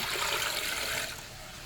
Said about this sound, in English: Alright, so put in 3 cups of water.